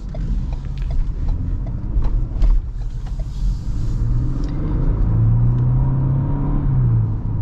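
A 2025 Ford Ranger with a V6 engine accelerates from inside the cab. A deep engine rumble climbs steadily in pitch and loudness, with no talking over it.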